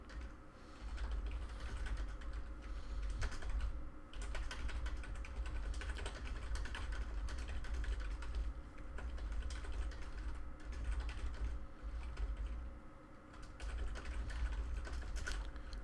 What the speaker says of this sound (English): I shouldn't be typing.